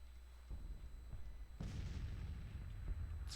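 Gunfire in a Civil War strategy game: several muffled booming shots, one sharper and louder, over low steady game ambience.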